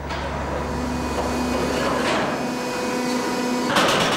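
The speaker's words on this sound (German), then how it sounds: "Der Hammer macht sich daran, die allzu großen Brocken zu zerkleinern." A hydraulic hammer breaks oversized rocks in a copper mine in Chile's Atacama Desert, with a loud, continuous grinding machine roar and a few sharper knocks near the end.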